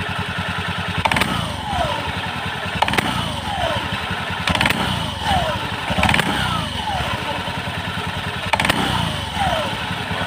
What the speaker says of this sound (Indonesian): Terus saat digas, dia digas di betot, digas secara kasar, dia ada suara seperti suara cetek kayak gitu di sini